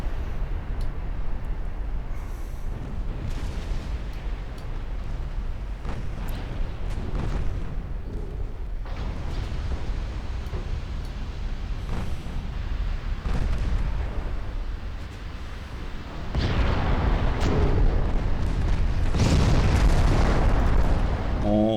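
Naval gun salvos thunder in a warship video game, heavy booms rolling over a constant low rumble and building into a louder barrage near the end.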